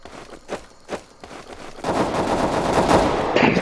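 Gunfire in the video game CS:GO, with two sharp early shots followed by a dense, sustained burst of rapid fire that fills the last half of the clip, loud and close.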